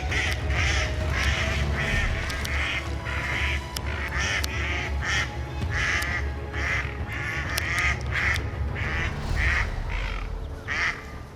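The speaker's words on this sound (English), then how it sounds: "Despite the mother duck's desperate attempts to counterattack, the ducklings are systematically snatched away one by one." Mother duck quacking frantically while a bird of prey snatches her ducklings, loud repeated honking quacks in a steady rhythm over a constant noisy outdoor background.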